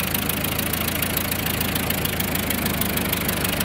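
A 1911 brass-era car's overhead valve engine idles with its choke on, pushrods and rockers working, giving a loud, close, even chugging clatter with steady rapid ticking.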